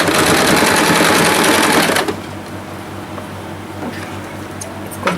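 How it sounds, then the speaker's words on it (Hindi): Sewing machine stitching a small summer dress for a Laddoo Gopal idol, running loud and steady for about two seconds, then stopping, leaving a low hum and a few faint clicks. "अब ये हमने सिलाई कर ली है"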